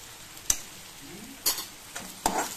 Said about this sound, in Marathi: मटकी छान मिक्स करून घ्यायची, परतून घ्यायची मसाल्यांमध्ये।